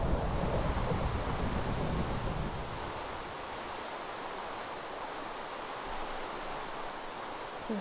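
A steady rush of falling water from a waterfall in the Survival Games mode, a broad constant roar that is louder at first and then settles slightly quieter, with no voices over it.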